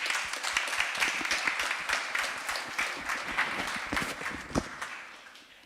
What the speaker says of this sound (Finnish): Annetaanko Pialle vielä isot aplodit?